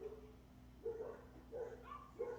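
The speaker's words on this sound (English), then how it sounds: "You hear the dogs barking at, it's FedEx, UPS, USPS, some of the delivery things." Faint, distant dog barks, three or four short yaps spaced out over a low background hum.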